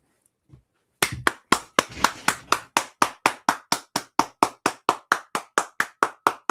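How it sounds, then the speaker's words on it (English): A single pair of hands claps for a coach in a slow, regular rhythm, about twenty sharp, evenly spaced claps, loud and close, after a faint brief sound, with no talking. "Stand up for this man and give him a round of applause"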